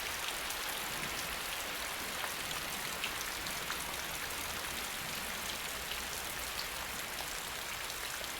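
Rain falls on the canopy of an Asian rainforest as a constant dense hiss of drops on leaves, even and fairly soft throughout, with no voices.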